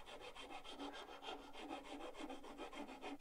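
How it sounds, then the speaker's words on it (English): A hand file rasping against the inside of wooden push block handles, with steady, even back-and-forth strokes repeating close and quiet, with no voices. "I used a file just to neaten up the inside of the handles,"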